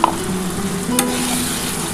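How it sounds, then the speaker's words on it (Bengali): Spice water poured into a hot pan for a silver carp curry, a brief splash followed by a steady close hiss and sizzle that holds for a couple of seconds. "এই যে মশলার জলটা দিয়ে দিলাম"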